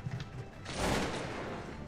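A musket volley in Cossacks 2, a strategy video game: a single broad crackling blast bursts out after a quieter start and then rolls off into a lingering, moderately loud rumble.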